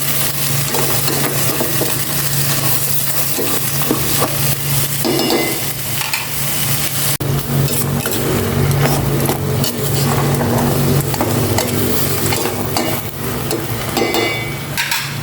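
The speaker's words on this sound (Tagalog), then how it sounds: "Igisa ko muna itong maigi itong munggo." Mung beans sautéing in a hot pan give a loud, continuous sizzle close by, with repeated scraping and clattering strokes of a utensil stirring them, and no talking.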